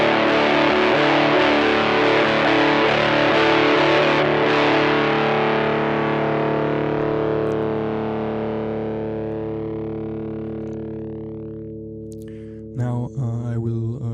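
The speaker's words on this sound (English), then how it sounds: "enable the distortion effect instead. Again, this is set to a gain value of 30 decibels." Guitar played through a distortion pedal set to 30 dB gain: one heavily saturated chord rings out alone, thick and buzzy, slowly decaying over several seconds, then a brief new strum near the end.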